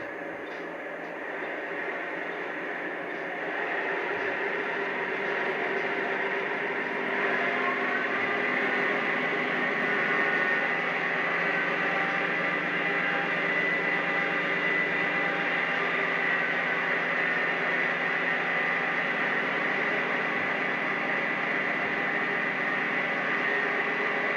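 A Lionel Legacy ES44AC model locomotive's continuous mechanical engine drone that rises slightly in pitch and intensity partway through, then holds steady.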